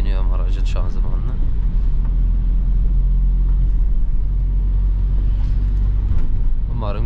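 An Audi Q5 2.0 170PS with a Multitronic transmission drives through the city, its engine giving a loud, continuous low rumble from inside the cabin, with a voice talking briefly at the start and end.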